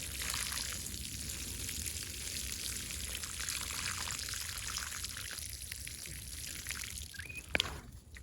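Water pours steadily from a watering can onto soil around newly planted redbud trees, a soft continuous splashing trickle close by that eases and ends with a brief clink near the finish.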